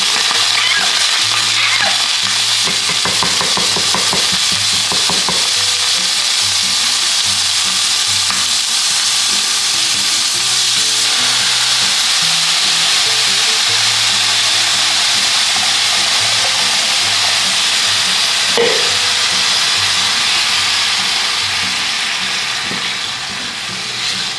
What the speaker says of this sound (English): Let's put our rice in. It's ready to be toasted.